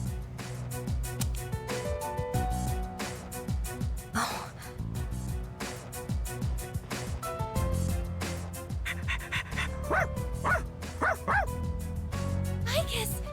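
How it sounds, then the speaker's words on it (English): A person voices a dog in the video game Persona 3 Reload, giving repeated barks, pants and yips over a busy game soundtrack and effects. "I thought it was just like regular dog noises"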